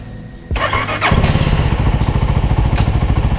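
A CFMOTO 300SR motorcycle engine starts up with a quick burst, then settles into a steady, close, loud idle rumble with even rapid firing pulses and no voices.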